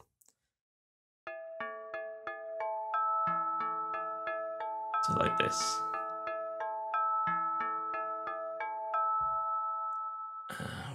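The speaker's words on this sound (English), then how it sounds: "physically modelled hand drum loops, and there's also some sort of mallet things in there," Synthesized bell and gamelan-like mallet loops from a Zebra synth ring out in a quick repeating pattern of bright metallic strikes, with a brief noisy burst in the middle; a voice speaks briefly at the start.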